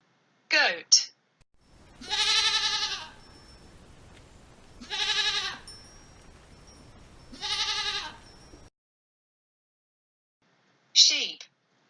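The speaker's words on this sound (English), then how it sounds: "Goat." Three drawn-out goat bleats come in a steady, evenly spaced series, loud and close, with a short spoken word before and after.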